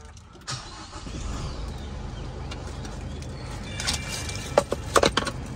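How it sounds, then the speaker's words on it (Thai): A 2023 Isuzu four-door pickup with the 1.9 Ddi engine cranks and starts, giving a rising engine rumble in a quiet cab, followed by a few sharp clicks and clacks near the end. "นี่เดี๋ยวผมสตาร์ทให้ดูนะ"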